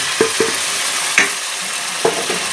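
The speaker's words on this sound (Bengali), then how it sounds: "দিয়ে এখন মশলাটা কষতে থাকবো।" Onion and garlic paste masala fries in a pan, giving a steady close sizzle broken by a few sharp scrapes and knocks of a spoon stirring.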